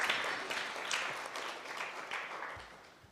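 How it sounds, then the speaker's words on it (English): Audience at a university research challenge final clapping for a presenting team, a soft, fading patter of applause that tapers off over a few seconds. "Round of applause for Team H."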